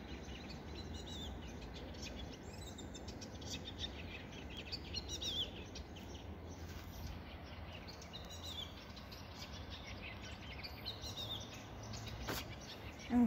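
Faint bird chirps scattered through a steady low background rumble, with occasional brief calls rising above the outdoor ambience.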